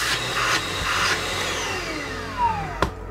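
A Parkside PNTSA 20-Li A1 cordless wet/dry vacuum cleaner runs with a steady, fairly quiet motor whine and airflow, shifting pitch slightly with a few brief bumps, close by and without speech.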